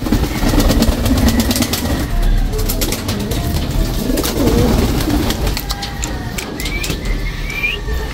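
Pigeons coo softly at a nesting loft where young birds are kept, with low repeated calls under a steady outdoor background. Short clicks and a few faint whistles break in later.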